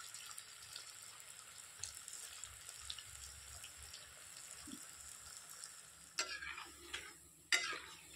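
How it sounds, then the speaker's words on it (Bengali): Kadma pitha frying in oil a few at a time while being turned: a soft, steady sizzle with faint stirring, then a couple of louder clattering stirs near the end. "তো আমি এগুলোকে তো উল্টো পাল্টায় ভালো করে একটু ভেজে নিচ্ছি।"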